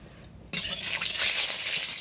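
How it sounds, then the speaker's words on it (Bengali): Spiced fish hits hot oil in a kadai, erupting into a sudden loud, dense crackle and spatter after a quiet moment, with the sharp sizzle sustaining close up for the remaining seconds. "মাছটা দিয়ে তেল গরম হয়ে গেছে। খুঁটিতে একটু জল ছিল বলে চটপট করে আওয়াজ হচ্ছে।"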